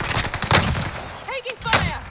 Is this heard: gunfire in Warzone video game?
yes